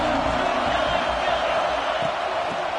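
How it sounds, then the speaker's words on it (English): A packed college football stadium crowd roars loudly and continuously, a dense wall of cheering and shouting that holds steady throughout. "This crowd ready to make its presence known."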